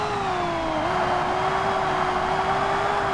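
A high-revving Ferrari race car in Forza Motorsport holds a shrill, sustained engine note. The pitch dips briefly, then climbs and levels off, staying loud and near throughout with no talking.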